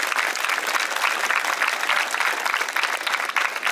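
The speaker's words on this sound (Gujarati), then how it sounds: "એમના માટે એકવાર જોરથી તાળીઓ થઈ જાય." A large crowd claps steadily and loudly for cadets at a school ceremony honouring martyred soldiers, the dense applause sustained without a break and no voices standing out.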